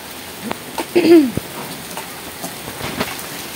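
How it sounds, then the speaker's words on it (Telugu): Steady rain of large drops patters throughout, with scattered drops landing nearby and a brief swooping birdlike chirp early on. "వర్షం పడుతుందండి."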